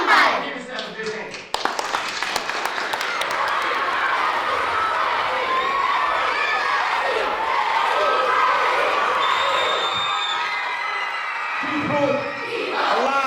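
A school crowd of students cheers, claps and shouts in a loud, sustained wash of applause that fills the space, with a few sharp calls rising above it.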